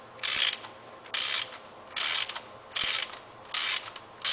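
A ratchet on an extension loosening spark plugs on a Mazda Miata, five loud, close bursts of rapid clicking, each about a third of a second long, separated by short silences.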